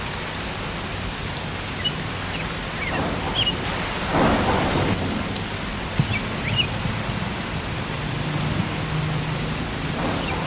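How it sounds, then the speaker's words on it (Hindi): Steady rain falls in a cartoon scene while low thunder rolls underneath, a continuous wash of noise with a swelling rumble near the middle and no voices. "अरे अब तो रुक जाओ बारिश, ये क्या कर रहे हो?"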